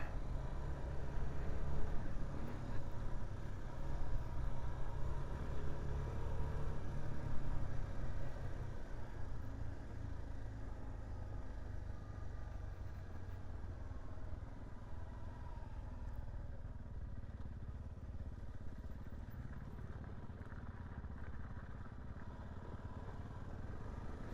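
A Suzuki DRZ dual sport motorcycle engine running steadily during a ride through the Lower Sugarloaf Fire area, a continuous, fairly loud low drone with wind rush and no break across the whole stretch.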